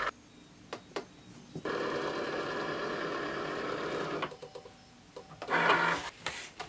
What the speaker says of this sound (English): And I'm just going to load that into the Cricut.